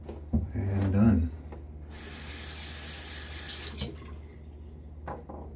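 A water tap runs into a sink for a few seconds as a face is rinsed after a shave with a Maggard V3A safety razor, a steady broadband rush following a brief spoken word near the start.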